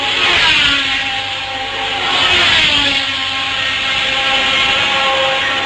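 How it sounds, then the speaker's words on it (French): A 1971 Formula 1 car engine, Clay Regazzoni's, at the Spanish Grand Prix in Montjuïc Park, running with an odd-sounding note as a loud, sustained high-pitched scream that swells and fades as it passes, with no voices. "Le moteur de Regazzoni fait un drôle de bruit."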